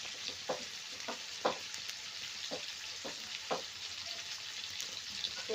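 A steady hiss of frying masala in a pan as a little water is added, with a handful of soft taps and scrapes as it is stirred.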